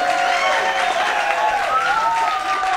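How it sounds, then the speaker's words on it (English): A live crowd claps and cheers for the band at a concert, a steady dense wash of applause filling the whole stretch with whoops and voices rising over it. "Let's put our hands together and get loud."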